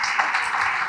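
Church congregation applauding together, a steady dense wash of clapping with no pauses, moderately loud and close.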